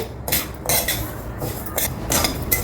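A spoon scrapes and knocks around a pan as wheat rava roasts in ghee, giving close, uneven metallic scraping strokes repeated in a loose rhythm.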